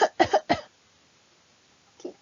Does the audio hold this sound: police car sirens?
no